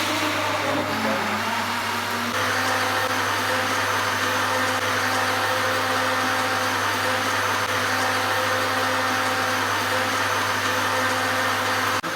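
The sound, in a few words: blender making banana milkshake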